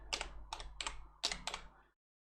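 Quick run of about six key presses on a computer keyboard, crisp and close, then silence.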